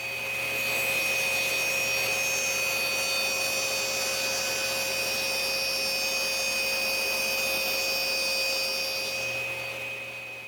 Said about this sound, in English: Now I can go ahead and readjust the fence and make the second cut on the other side to clean that up